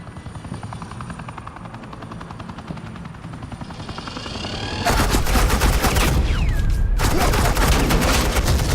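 Suppressing gunfire in Batman: The Enemy Within, a sustained loud stream of rapid automatic shots that begins partway through, laid over the steady thrum of a helicopter overhead.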